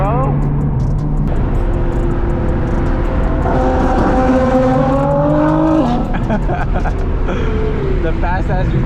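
Loud Nissan GT-R engine racing on a freeway, a continuous roar whose tones climb through several rising sweeps with brief breaks between them, heard close over road noise.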